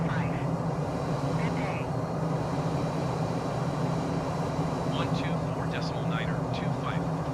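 An F-35C Lightning jet in Microsoft Flight Simulator comes in to land, a steady low engine roar with a whining drone running throughout, while a voice talks intermittently over it.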